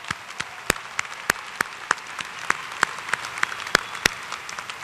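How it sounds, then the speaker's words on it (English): Applause for graduates at a university spring commencement, a crowd clapping steadily with sharp individual claps standing out, moderately distant and sustained. "one more round of applause for all these graduates today"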